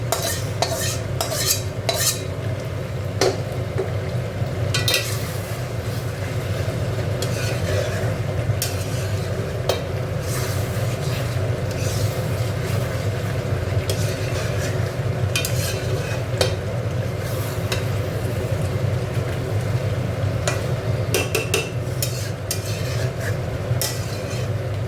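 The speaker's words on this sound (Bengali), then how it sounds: "আলুটা দিয়ে একটু কষে" Potatoes stir-fried and turned in a pan for a chicken curry made with gondhoraj lemon leaves, giving a steady sizzle with scraping utensil clinks throughout, close and continuous.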